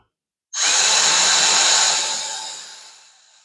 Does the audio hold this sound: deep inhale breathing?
no